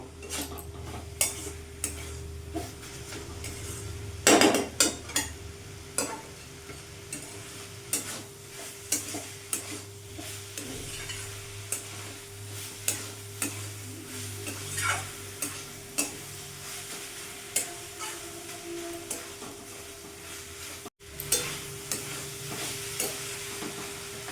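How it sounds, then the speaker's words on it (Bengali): Banana flower frying in a pan on a raised gas flame for a vegetarian dish, with steady sizzling and repeated scraping stirs, one louder clatter of the spatula early on, close and clear with no talking. "দু থেকে তিন মিনিট আরও আমি ভাজা ভাজা করে নেবো গ্যাসের ফ্লেমটা একটু বাড়িয়ে দেবো"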